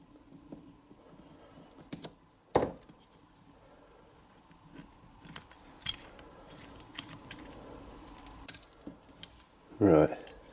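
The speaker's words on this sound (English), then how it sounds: "Right, now I've got a socket." Socket wrench ratcheting while an FX Wildcat air rifle is stripped down: sparse, close mechanical clicks and handling taps, ending in a short dense burst of rapid ratchet clicks, with no talking.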